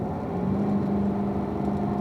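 A car driven on a race track in third gear gives a steady, sustained engine whir at constant pitch, close and fairly loud, with no talking over it.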